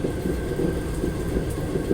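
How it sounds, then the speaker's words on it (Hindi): A special train hauled by an electric locomotive rolls past on an Indian line, giving a steady, close rumble of wheels and carriages with faint rail clatter throughout. "इलेक्ट्रिक लोकोमोटिव लेके जा रहा है फ़िलहाल तो"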